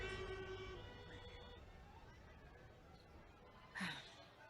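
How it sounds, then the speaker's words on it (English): A police car siren wails faintly in the distance, its rising and falling tone muffled under a low, steady background. "A game of tag with a police car"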